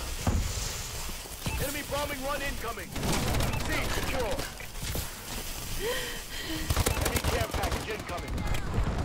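Gunfire crackles through a Call of Duty Advanced Warfare firefight in repeated rapid bursts and single shots, with someone talking over the shooting throughout.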